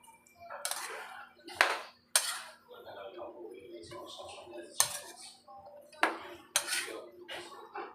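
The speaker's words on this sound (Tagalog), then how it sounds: "ngayon naman haluin na natin itong ating gulay" Vegetables stirred in a metal pan with a utensil, giving a series of sharp clinks and scrapes in irregular bursts, fairly close, with a low steady hum underneath.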